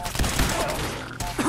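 Gunfire in Fallout 4, a few dense bursts of shots blended into busy, noisy combat sound with some muffled voices.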